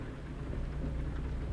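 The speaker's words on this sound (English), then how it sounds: "when I said the rain was decreasing, I must have been wrong because that looks like it's actually got a bit faster" Steady rain in the American Truck Simulator video game, a continuous dense patter of rainfall with low rumble, moderately loud and uninterrupted.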